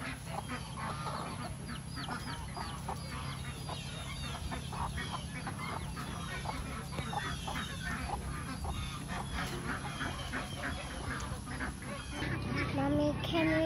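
Geese and ducks, including mallards and muscovies, honk and quack at a farm alongside chickens, a busy overlapping chorus of calls at moderate distance that goes on continuously throughout.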